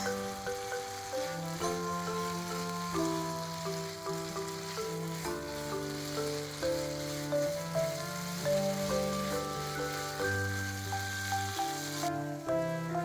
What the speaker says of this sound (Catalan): Posem els cigrons cuits al sofregit.